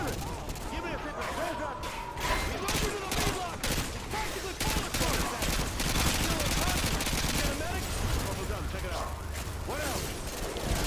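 Rapid bursts of gunfire in Call of Duty: Modern Warfare 2 crackle throughout, dense overlapping shots with mechanical clatter and a voice talking underneath.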